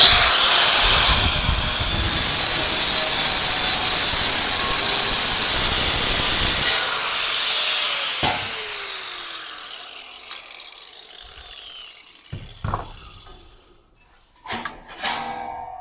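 Angle grinder slicing through sheet metal on a cheap 2500 HD pickup truck, a loud sustained high-pitched shriek for about eight seconds that then stops, leaving faint clanks and rattles of metal.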